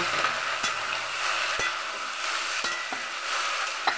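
Ash gourd cooks in a pan with five-spice, green chilli and ginger, giving a steady, close sizzle broken by a few sharp stirring scrapes and clicks, with no talking.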